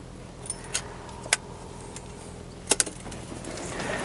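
Audi A4 2.0T car keys jangle in a few brief, sharp metallic clusters over a low, steady background rumble, with no talking.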